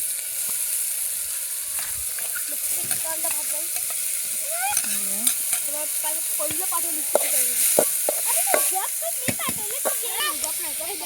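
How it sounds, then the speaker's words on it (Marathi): Onion frying in oil in a village kitchen, a steady close sizzle with stirring scrapes throughout, while voices talk over it. "आपण याच्यामध्ये आता तेल टाकलंय, कांदा पण टाकलाय"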